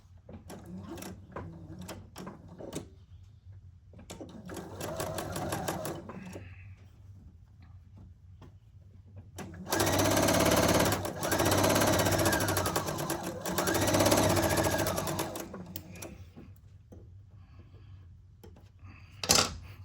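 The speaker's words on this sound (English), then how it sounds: "And then we're gonna sew down the long side here." Sewing machine running in bursts to stitch a quarter-inch quilt seam, with short runs early on and a longer, louder stretch of steady mechanical whirring in the middle, alone with no talk.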